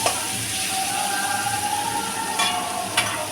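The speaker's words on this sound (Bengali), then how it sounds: "এবার পেঁয়াজগুলো দিয়ে ভালো করে নাড়িয়ে চাড়িয়ে নিচ্ছি।" Chopped onions sizzle in a pan while being stirred, a steady close frying hiss with a couple of sharp scraping clicks from the utensil.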